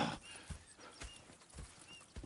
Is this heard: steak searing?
no